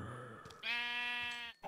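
A sheep in Minecraft Feed The Beast gives a single drawn-out, wavering bleat that holds for about a second, loud and close, after a brief softer sound, with no talking.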